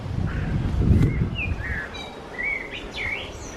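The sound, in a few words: pigeons cooing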